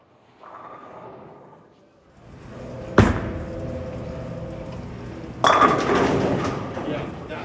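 A Motiv Trident Horizon bowling ball rolls down the lane and crashes into the pins with a sharp clatter. A second burst of pin noise follows a few seconds later in the echoing bowling alley.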